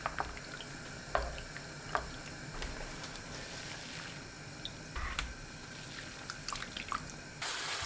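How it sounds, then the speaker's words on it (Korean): Steady bubbling and gurgling of salted water at a rolling boil with garlic scapes blanching, occasional soft splashes and drips, close by with no talking. "끓는 물에 굵은 소금 1큰술, 마늘종 넣고 15초 데칩니다."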